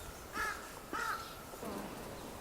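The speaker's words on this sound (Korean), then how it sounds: "은행나무도 많고 단풍도 있고 새들도 되게 많습니다. 예, 까치도 있고." Magpies and other birds calling in an apartment complex lined with ginkgo and maple trees: two loud, harsh calls ring out close together in the first second, then fainter calling carries on over a steady outdoor hum.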